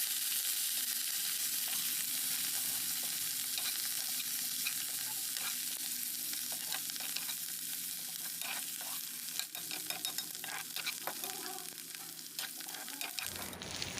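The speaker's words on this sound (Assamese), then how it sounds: "এতিয়া মাটিকান্দুৰীখিনি ধুনীয়াকৈ দি অকণমান ভাজি ল'ম" Matikanduri greens sizzle steadily in a hot pan, a continuous close frying hiss with occasional stirring scrapes, cut off abruptly near the end.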